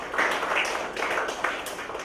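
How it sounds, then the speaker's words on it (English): A classroom of Year 6 students claps for themselves after a reading lesson, a dense, steady patter of many small hands filling the short stretch at moderate loudness with no talk over it. "Give yourself a clap"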